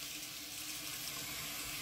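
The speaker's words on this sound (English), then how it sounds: "You want to run your dishwater." Dishwater runs from a faucet into a kitchen sink with a steady, faint hiss of flowing water, continuous and alone.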